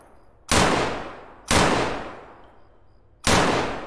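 Three loud, separate rifle blasts from Escape from Tarkov, each a sharp crack followed by a long decaying tail. They are spaced roughly a second or more apart, with no talking.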